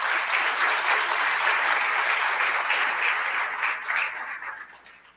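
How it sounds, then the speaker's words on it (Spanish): An audience at a Spanish-language university conference applauds, dense steady clapping that holds for several seconds, then fades out. "Un aplauso para la Universidad Autónoma de Occidente."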